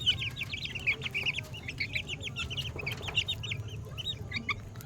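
Young Hatch gray chickens, about three weeks old, cluck and peep in rapid, overlapping bursts at close range, bright chirping calls running continuously over a low steady rumble.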